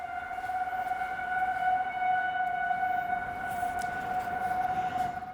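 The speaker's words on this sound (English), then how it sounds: "We're in a tornado watch and the sirens are going on." A steady outdoor tornado warning siren wails continuously, a sustained tonal drone that holds without pause, heard from a distance.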